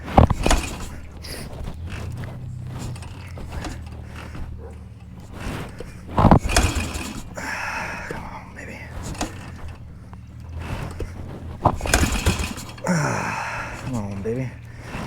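Three brief mechanical thumps as a rider kick-starts a 1972 BSA B50SS Gold Star single-cylinder motorcycle, spaced several seconds apart. Someone talks between the kicks, and the engine does not catch.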